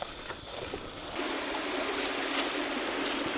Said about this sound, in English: It's a little spring. The water comes out of there.